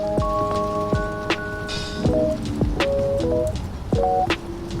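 Steady rain falls throughout a Roblox Doors hotel level, mixed with the game's synth tones and occasional sharp knocks, with no talking.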